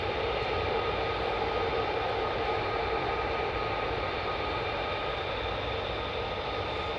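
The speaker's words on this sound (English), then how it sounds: "these are the Lockheed Martin F-35s." Lockheed Martin F-35 fighter jets of the 48th Fighter Wing produce a sustained, heavy roar of jet engine noise, constant and loud across the stretch with no talking.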